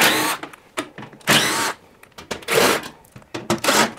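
Cordless power screwdriver whirring in several short bursts as it backs Torx screws out of the rear cover and lid of a Beko washing machine, close and loud with brief pauses between each screw.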